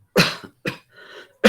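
A man gives a few sharp coughs in quick succession, close and loud, with brief pauses between bursts and no talking.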